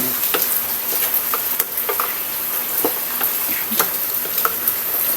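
Cabbage goes into a pot of cooking carrots for sopas, with a continuous sizzle and scattered sharp clicks and taps of utensils stirring against the pot, close and fairly loud with no talking.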